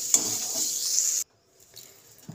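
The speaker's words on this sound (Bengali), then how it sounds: "ওই তেলে আমি চিংড়ি মাছটা দিয়ে দেব। চিংড়ি মাছটা ভেজে নেব।" Prawns hit hot oil in a pan and sizzle loudly for just over a second, a bright hissing crackle that cuts off abruptly, followed by faint quiet kitchen noise.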